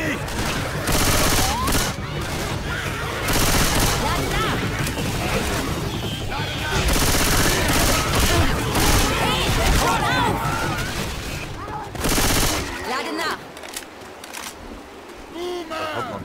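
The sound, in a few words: gunfire in the video game Left 4 Dead 2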